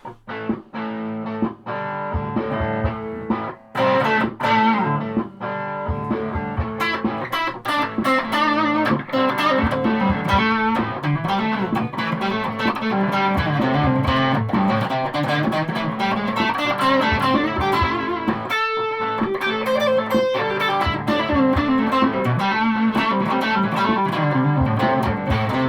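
Electric guitar played through a Marshall Guv'nor mk1 distortion pedal, loud and heavily overdriven, with sustained chords and riffs running continuously throughout without any voice.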